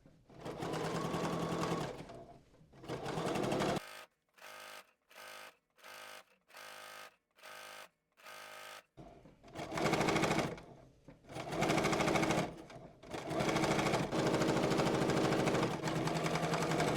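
Sewing machine edge stitching along bias binding, running in long steady bursts with a rapid run of short on-off pulses in the middle, close and loud with no talking.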